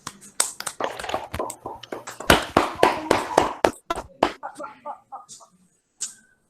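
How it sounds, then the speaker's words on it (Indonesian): Pupils in a primary school classroom clap a short round of applause for a classmate, with sharp uneven claps that are loud at first, then thin out into a few scattered claps and fade. "saya berikan tepuk tangan dulu bagi anak kami."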